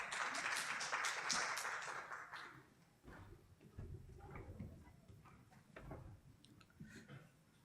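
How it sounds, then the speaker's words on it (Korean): Faint, fairly distant audience clapping at a Korean industry seminar, strongest at the start and then thinning into scattered claps with low room rumble underneath. "박수로 모시겠습니다"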